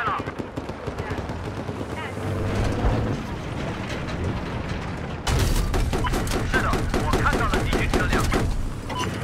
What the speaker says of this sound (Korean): AA가 내 쏜다